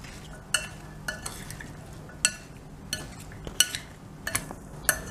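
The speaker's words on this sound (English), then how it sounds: "And just mix this salad now." A spoon stirs fruit chaat salad dressed with lemon in a bowl, giving soft scattered clinks and scraping taps at an irregular pace, close and fairly quiet.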